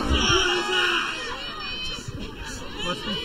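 Spectators at a girls' high school soccer game react loudly, with shouts and screams over a babbling crowd that eases into scattered chatter.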